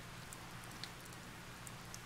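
Steady rain falls in the Harvest Moon: Save the Homeland video game, a soft continuous patter of drops that holds evenly throughout with no voices.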